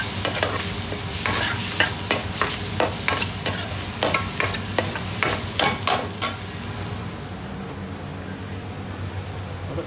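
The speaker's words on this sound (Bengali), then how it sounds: "ওটা ফ্রাই চালাচ্ছি" Food frying in a pan in a restaurant kitchen is stirred with a spoon, giving a fast run of sharp scraping knocks over a soft sizzle, which then settles into a quieter, even hiss without voices.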